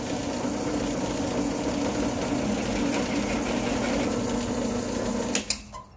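A power drill bores a hole into metal while a forge burner is being built, giving a steady, close whirring grind that runs without a break for about five seconds before winding down.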